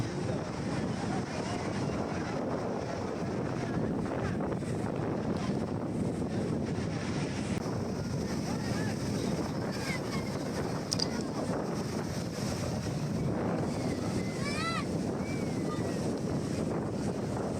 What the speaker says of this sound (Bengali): প্রচণ্ড ঢেউ আজকে এখানে সাধারণত এখানে তেমন একটা ঢেউ হয় না কিন্তু আজকে প্রচণ্ড ঢেউ আছে